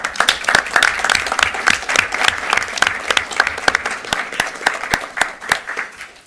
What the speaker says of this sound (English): we should really clap for that and acknowledge that